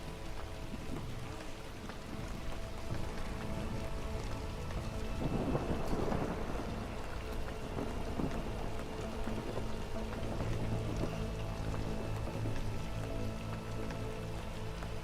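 Heavy rain pours steadily in the game Against the Storm, with a deep rolling thunder rumble swelling midway and fading into the downpour, all without talk.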